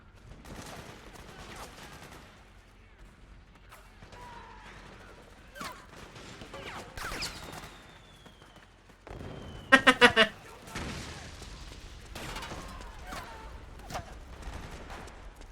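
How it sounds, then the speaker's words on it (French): Sniper suppressive fire in Metal Gear Solid 4 rings out as a tight cluster of sharp shots, with scattered quieter game sounds and a player speaking on and off around it. "Il a fait un tir de suppression."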